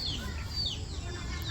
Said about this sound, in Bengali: ওই যে মুরগি সব।